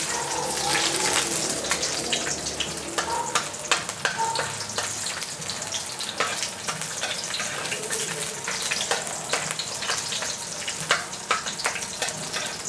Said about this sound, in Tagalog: mag-gisa-gisa na tayo guys